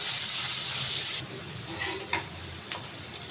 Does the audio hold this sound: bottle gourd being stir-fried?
yes